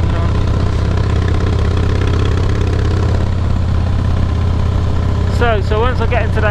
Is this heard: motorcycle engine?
yes